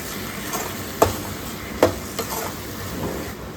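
A spoon stirs chilli and turmeric powder into oil and tomatoes in a pan for a green sundakkai tamarind kuzhambu, with a few sharp scrapes against a soft steady sizzle, close and moderately quiet.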